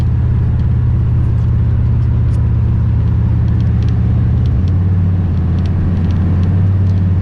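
A Lexus RC350 F Sport speeds past a 2004 Chevy Duramax truck on the road, heard from inside the truck as a loud, steady low engine rumble whose pitch drops partway through.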